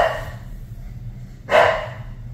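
A single sharp dog bark rings out close by after a moment of low background rumble, then fades.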